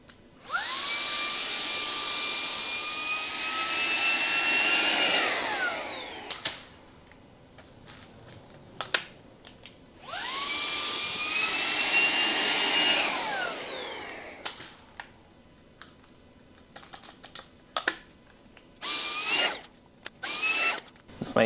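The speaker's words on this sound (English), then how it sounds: "I would take my handy dandy Shark Vac" Shark Wandvac WV201CO handheld vacuum sucking up dumped kitty litter: two loud, close whining runs of about five seconds each, pitch sliding down as the motor winds off, separated by clattering handling noises and short bursts.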